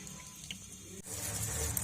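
Tap water runs steadily over chopped bathua greens held in a basket, a continuous splashing rush that swells louder in the second half, close by with no talk.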